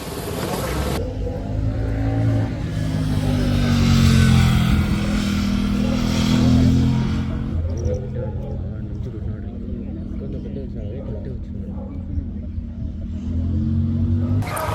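Racing cars at a car race event in Bangalore make a low engine rumble that swells and fades in the background, while a person talks over it throughout.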